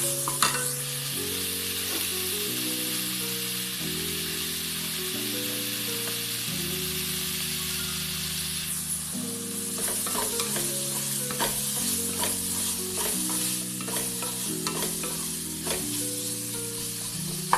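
Chopped onion sizzles in a hot pan for an amaranth-leaf bhaji, with a continuous hiss broken by repeated scraping stirs, set under steady background music.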